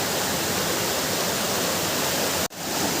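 Dumkanusa waterfall in Kendujhar, Odisha gives a steady, dense rush of falling water, close and continuous, with a short dip near the end.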